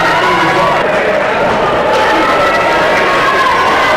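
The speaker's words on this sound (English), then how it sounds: "That's that loud cheer you heard, all the fans cheering when Joe Southwick entered the room." Basketball fans in a high school tournament gym keep up a loud, dense roar of cheering that never lets up.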